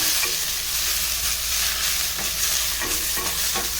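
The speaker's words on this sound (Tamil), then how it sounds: "இது கொஞ்சம் நல்லா வதங்கி அப்படியே ஒரு சாலிடாக வரணும் அந்த அளவுக்கு நம்ம இதை வதக்கிக்கலாம்" Spinach and green chillies sauté in a pan with a steady sizzle and frying crackle, and a utensil stirs them now and then. No one talks.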